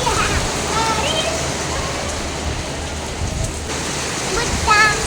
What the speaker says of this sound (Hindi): पूरा बारिश हो रही है।